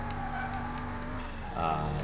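A turbocharged race car engine in the Car Mechanic video game, fitted with a new engine, holds a steady, loud drone with a tonal whine, then swells briefly louder near the end.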